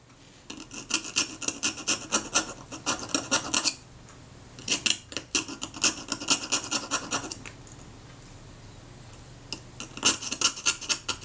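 Hand scraping of loose paint and fine surface rust from a steel part of a Kodak Retina type 117 camera, close rhythmic rasping strokes in bursts with short pauses, no speech.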